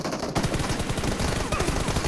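Rapid hip-fire gunshots from a close-range mobile shooter game, a dense, loud stream of shots that keeps going with no pauses for about two seconds.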